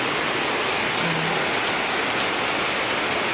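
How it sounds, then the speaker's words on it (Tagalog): Heavy rain pours steadily onto the roof above a kitchen in the early evening, a dense, even hiss that fills the whole stretch without a break or voices. "Mo ni ang ulan guys"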